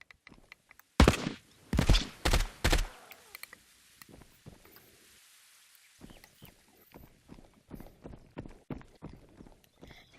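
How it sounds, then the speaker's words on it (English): Footsteps of nearby players in a video game, a quick burst of loud, heavy thuds early on, then a long run of softer, evenly spaced steps that grows steadier toward the end. "I heard the footsteps, so I wasn't sure if there were players close by"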